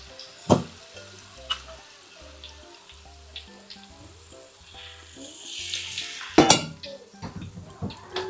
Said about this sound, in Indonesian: Dan ini aku lanjut goreng yang kacang lagi